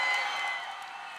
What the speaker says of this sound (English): Round of applause, Mr. Johnny Lopez.